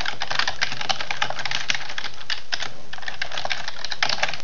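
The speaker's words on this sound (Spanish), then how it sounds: "si pulso la tecla Key Enter" Computer keyboard being typed on, a fast, continuous run of close clicking keystrokes with no voices, rather than a single Enter key press.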